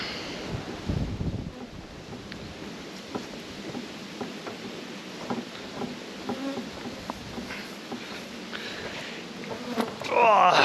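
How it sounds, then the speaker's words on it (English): A steady hum of honey bees buzzing around hives fills the air, with individual insects zipping close by in sharper, passing buzzes. "Very quiet docile bees, you'll see now."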